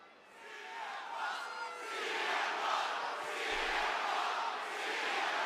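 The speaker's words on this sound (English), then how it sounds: "They're just chanting for OTC" Wrestling arena crowd at WWE Raw chanting for OTC, a broad, sustained roar of many voices that swells and holds steady, with rhythmic chant-like rises throughout.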